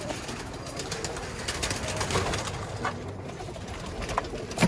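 Nil dum pigeons, a pure breeding pair, cooing softly and repeatedly in a loft, their low murmuring calls mixed with faint rustling and background noise, with no talking.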